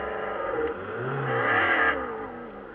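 A 2007-era Audi A3 8P engine note swells as the car accelerates, a steady mid-pitched hum rising and falling over a few seconds, close and moderately loud with no talk.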